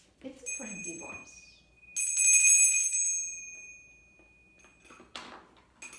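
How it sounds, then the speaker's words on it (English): A meditation bell is struck, giving a clear ringing tone with bright overtones that swells and then fades, with a few other soft chimes and some speech nearby. "But we had to ring the bell."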